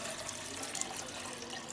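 Tap water running steadily into a container for boiling fish for laksa broth, a continuous close hiss of flowing water with no talking.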